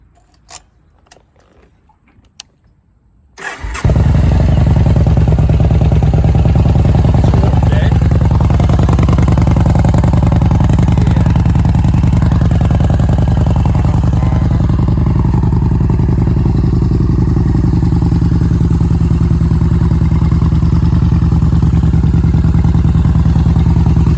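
A motorcycle on a cold start: a few quiet clicks, then the engine catches and settles into a loud, steady, close idle that runs unbroken to the end.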